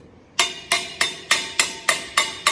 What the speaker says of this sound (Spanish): Acá se le va dando la comba final, despacito, con un martillo bombé